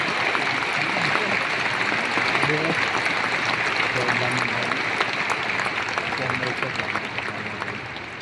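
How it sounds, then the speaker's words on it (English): A large congregation at a convention center applauds in a loud, broad, sustained wave, with voices murmuring underneath as the clapping slowly fades. "You can applaud them"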